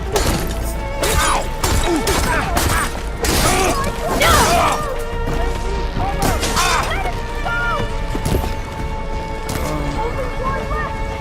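Combat in Horizon Forbidden West with soldiers firing weapons, heard as a dense, loud run of crashing, thudding impacts and mechanical clatter that continues steadily for the length of the passage.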